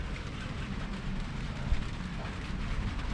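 Rain falls in a steady, close hiss of drops spattering on surfaces, with a few louder splashes breaking through the even wash.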